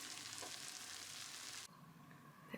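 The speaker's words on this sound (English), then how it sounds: "Apple crumble is ready. Still sizzling." A freshly baked salted caramel apple crumble sizzles faintly just out of the oven, a soft, steady crackle that cuts off abruptly partway through, leaving quiet room tone with a small knock near the end.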